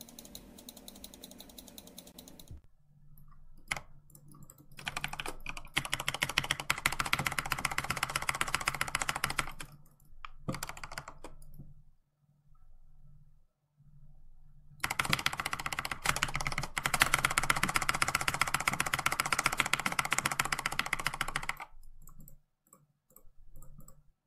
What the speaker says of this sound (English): He's trying to catch me while I'm typing.